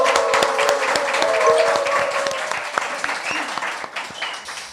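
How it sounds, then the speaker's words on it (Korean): Hearty studio audience applause at the start of a political talk show taping, dense clapping with some cheering that gradually tapers off toward the end. "여러분의 힘찬 박수와 함께 시작하겠습니다"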